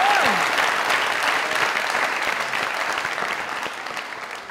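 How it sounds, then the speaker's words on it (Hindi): Loud applause from a studio audience at a Pakistani comedy talk show, dense steady clapping that fades slightly over a few seconds. "जोरदार तालियां, जोरदार।"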